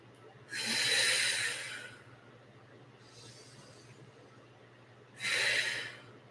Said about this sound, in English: Take 2 deep breaths.